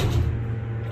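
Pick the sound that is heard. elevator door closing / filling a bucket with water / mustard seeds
elevator door closing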